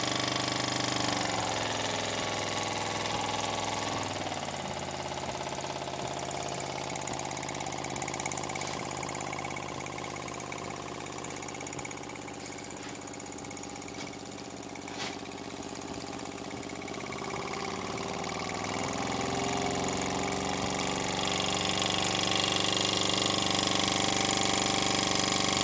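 Mamod model wobbler steam engine running smoothly, a steady mechanical whir with faint rhythmic chuffing and tonal hum throughout, moderately quiet and unbroken, rising slightly near the end.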